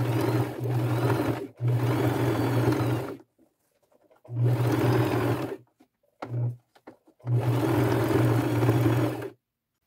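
Sewing machine stitching backpack straps at a durable stress point, running in three long bursts with brief pauses and a couple of short stitches between, close and steady with a whirring drone.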